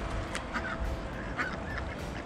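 Waterfowl at a garden lake honk and call a few times in short bursts over a steady outdoor background rumble, fairly close and moderately loud.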